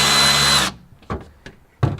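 A power tool loosening the struts on a GTR during a coilover install, one loud whirring burst followed by a few short clanks and knocks close by.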